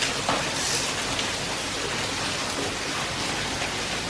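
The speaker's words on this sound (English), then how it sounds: "Fighting the rain." Rain pouring down at the Mooreland House renovation, a dense, loud, continuous patter of drops close by, with no voices over it.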